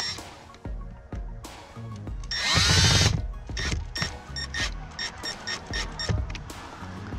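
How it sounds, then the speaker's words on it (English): A screwdriver tightens a Phillips head screw on the plastic glove box cover of a 2013-2020 Ford Fusion, with a short whirring driver burst among scattered close clicks and handling knocks. "go ahead and add your Phillips head screw back in and tighten that down"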